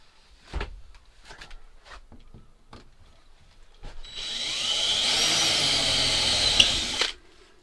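Power tool cutting through a Renault Trafic van panel during a day van conversion, likely a jigsaw; a few clicks and knocks come first, then a loud, steady buzzing cut runs for about three seconds close by.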